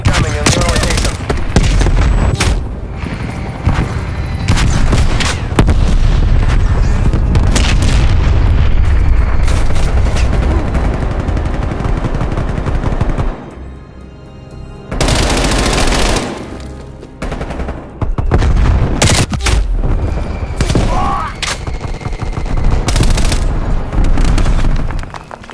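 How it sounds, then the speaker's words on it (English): A Call of Duty: Black Ops Cold War strafe run pounds the area with loud, dense bursts of rapid gunfire and booming explosions that barely let up, with only short lulls. "Strafe run incoming in your location."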